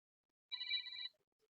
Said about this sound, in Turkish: abinin telefonu çaldı